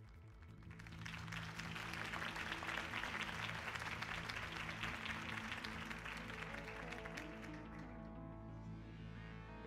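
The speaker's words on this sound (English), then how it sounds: "If only Mr. Wayne, my campaign's largest backer, could have heard that applause" A crowd in the Telltale Batman video game bursts into sustained applause after Harvey Dent's campaign speech, steady and dense for several seconds before thinning toward the end over a low musical hum.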